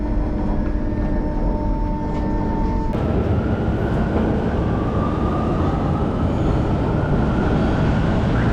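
A Santo Domingo Metro subway train rumbles loudly at close range, a constant heavy roar with a motor whine that rises in pitch as it picks up speed, no voices over it.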